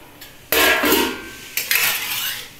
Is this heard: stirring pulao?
yes